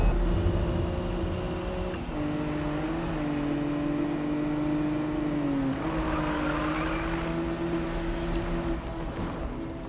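Sustained car engine drone in the video game Need for Speed (2015), steady and fairly loud throughout with shifting pitch as the car revs, alone with no talk.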